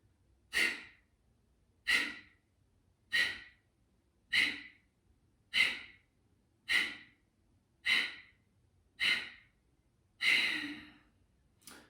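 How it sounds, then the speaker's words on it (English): Forceful pranayama exhalations through the nostrils with the mouth closed: about ten sharp, evenly spaced breaths roughly a second apart, close and clear against near silence. "Stomach in, exhale to the nostril, mouth gonna be closed."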